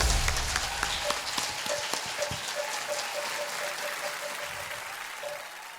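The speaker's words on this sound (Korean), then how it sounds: "박수로 환영해 주세요" An audience at a Buddhist lecture on meditation claps to welcome a monk speaker, a dense, steady patter of hands that stays fairly even and slightly distant for several seconds, with faint tonal ringing above the clapping.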